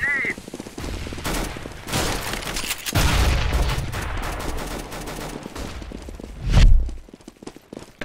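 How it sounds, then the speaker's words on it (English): A thrown grenade in CS:GO followed by a deep, booming explosion near the end, set among scattered gunfire and footsteps at moderate loudness. "I am throwing a grenade!"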